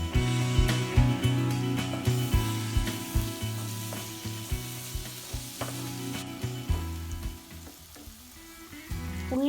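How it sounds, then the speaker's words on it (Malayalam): Onions and green chillies sautéing in a pan with garlic paste and curry leaves for a tender coconut chicken curry: a loud, close sizzle with frequent rhythmic spatula scrapes and knocks against the pan. "ഉള്ളിയും പച്ചമുളകും ഒക്കെ നന്നായി വഴണ്ട് വന്നിട്ടുണ്ട്."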